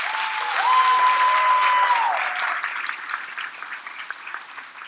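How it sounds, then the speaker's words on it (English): A graduation audience applauds the school staff, a loud sustained wash of clapping that swells and then thins out gradually, with a faint steady tone sounding through the first half. "So if we can just please give the entire staff a round of applause."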